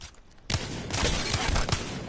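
Sustained burst of rapid gunfire from the Apex Legends video game, loud and dense, kicking in after a quieter half-second lead-in and rattling on without pause.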